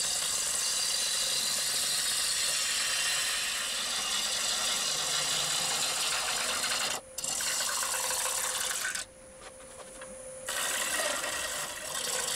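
Woodturning gouge riding the bevel on a spinning live-edge crotch piece on a lathe: a steady, loud rasping cut with a hum beneath, broken by brief pauses where the tool lifts away.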